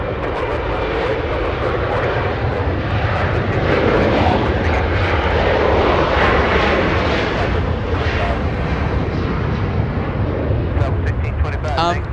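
A Singapore Airlines airliner at Los Angeles International Airport roars loud and close, with a sustained jet engine rumble through the whole stretch and people talking over it.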